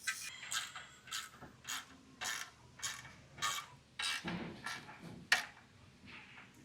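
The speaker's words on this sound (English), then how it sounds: "you can go ahead and snug them up using a 5/32 Allen and a 7/16 wrench" Nylon lock nuts being snugged with a 5/32 Allen key and 7/16 wrench while installing a hood rack on a Can-Am Defender HD11: repeated ratcheting clicks in steady bursts with small metallic clatter, close but fairly quiet.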